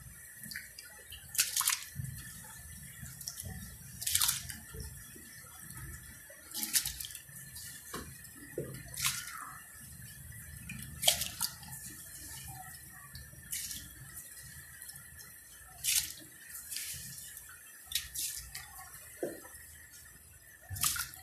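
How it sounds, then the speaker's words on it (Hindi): Soaked rice tipped into boiling water in a home kitchen: soft, irregular splashes and watery pours come in short bursts over a bubbling background, close and fairly quiet. "अब मैं पानी उबल चुका है, अब मैं ये चावल डालने लगी हूँ।"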